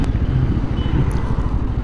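A Bajaj Pulsar N250 motorcycle riding through city streets, its steady engine drone and road rumble loud and continuous, with no talking.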